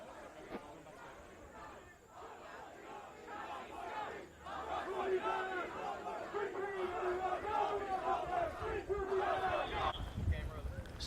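A large crowd of protesters outside the White House in Washington, D.C., a dense, steady roar of many voices and chanting that swells midway and stays loud and close throughout.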